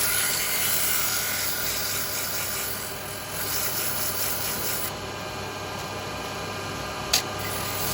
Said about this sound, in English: we're going to just give that a little sand